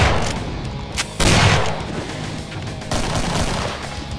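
Grenade shots and explosions from an enemy in the Doom 2 video game sound as loud, dense blasts and booming bursts that come one after another over a few seconds, with no speech.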